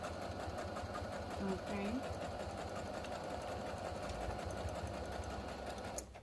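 A sewing machine runs steadily with a fast, even mechanical whir and rapid stitching rhythm, while a person briefly speaks over it.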